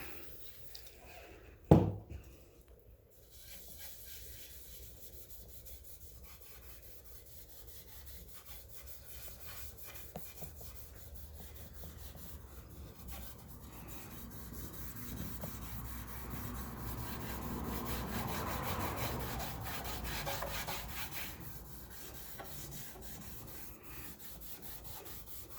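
A worn pink or red 3M abrasive pad scrubs a dirty Honda water pump coated in PB Blaster, a steady close rubbing that builds slightly louder toward the end, after a brief knock near the start.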